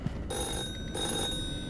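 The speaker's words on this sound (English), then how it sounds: "Is this a phone? Why does that sound like a phone?" A telephone bell rings in the analog horror video game The Floor Is Breathing, two bursts of ringing separated by a short pause, moderately faint against a low droning ambience.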